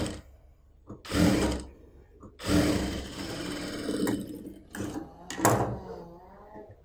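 A sewing machine stitches a sleeve onto a yoke, running in several short bursts of rapid mechanical whirring separated by brief pauses, close and fairly loud.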